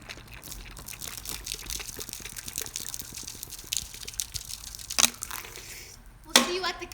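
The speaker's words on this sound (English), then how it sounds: "we're testing how consistent the water flow is whenever we pour it at a fast rate from a farther distance" Water is poured quickly from a height and lands in a continuous splashing patter, with a couple of sharper splashing crashes near the end.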